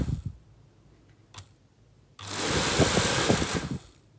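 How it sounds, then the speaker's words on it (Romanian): Fan motor of a vintage hair dryer under repair, a few faint clicks, then the motor kicks on with a loud whirring hum that runs steadily for about two seconds before winding down. "Și observăm că ventilatorul este funcțional."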